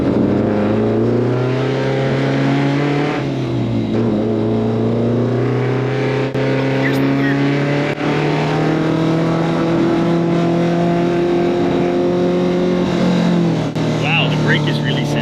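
The 1989 BMW M3 E30 DTM champion race car accelerates from inside the cabin, its loud engine droning and climbing in pitch through the gears with short dips at the shifts, continuous throughout.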